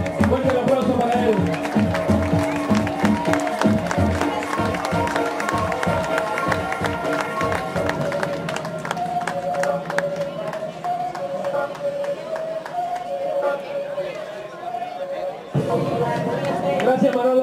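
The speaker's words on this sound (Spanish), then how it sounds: "Fuerte el aplauso para él." Crowd cheering and clapping at an open-water swimming event in Santiago del Teide, Tenerife, mixed with chatter and tonal background music, sustained at moderate distance with a voice speaking over it.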